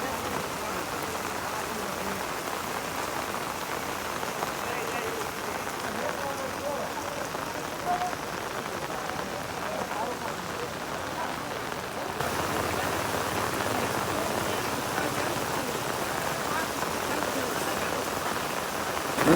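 Heavy rain pours down in a steady, dense hiss of drops striking surfaces, continuous throughout and growing a little louder partway through.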